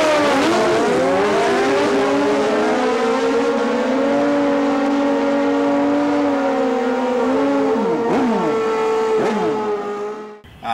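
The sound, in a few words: 1997 Suzuki Bandit motorcycle engine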